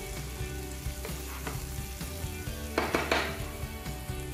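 Vegetables sauté in olive oil in a pan for paella, a steady close sizzle with occasional stirring scrapes and utensil clinks, no talk.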